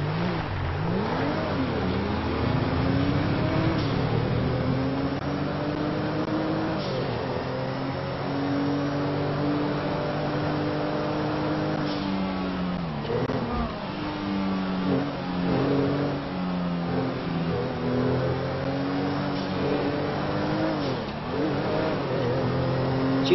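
A Mustang GT500 engine in the game GTA 5 revs and accelerates continuously, its pitch sweeping up and down through repeated gear changes, loud and steady throughout.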